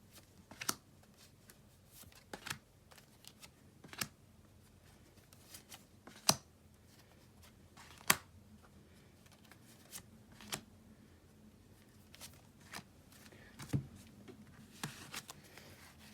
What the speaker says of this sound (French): Alors, je rajoute des cartes.